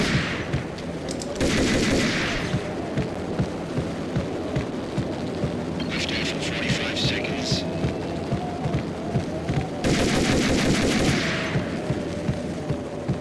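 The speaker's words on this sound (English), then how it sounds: "I need to shoot this panel." Video game gunfire aimed at a panel: bursts of rapid automatic shots, loud and close, in several volleys over a constant low hum and rhythmic throbbing, with talk mixed in.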